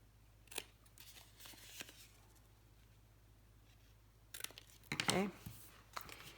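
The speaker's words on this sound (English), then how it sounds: "take your scissors and cut at an angle towards the front so" Scissors make a few quiet snips while paper is cut at an angle during a file folder craft session, with short cuts spread out and a louder burst near the end.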